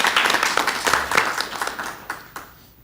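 Applause from a meeting audience at a parks and recreation authority session, a few seconds of scattered clapping that thins out and fades toward the end, with faint voices mixed in.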